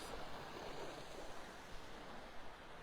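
Ocean waves wash along the beach shoreline at Wiggins Pass in North Naples, Florida, on an outgoing tide: a steady, close, full surf roar with light wind noise and no talking.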